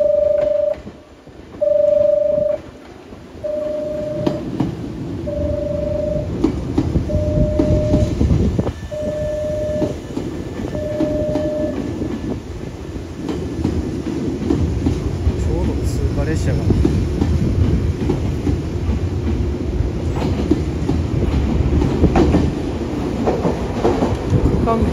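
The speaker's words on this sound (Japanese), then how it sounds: "まもなく3番乗り場を電車が通過します" A train rumbles loudly through a station on a Japanese line, clattering past Platform 3 without stopping for a long stretch after a repeated electronic beeping tone, with voices faintly mixed in.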